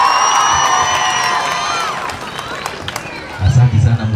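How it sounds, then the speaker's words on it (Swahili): A crowd at a gathering in Kiharu, Murang'a welcomes a speaker with a fading cheer and whoops, then scattered clapping swells loudly near the end, with voices mixed in. "Tumkaribisha kwa makofi"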